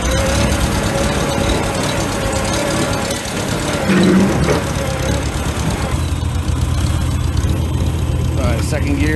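A 1948 Farmall Super A tractor engine runs steadily and loud, a throbbing low idle that rises slightly as the throttle is opened, with people talking faintly over it.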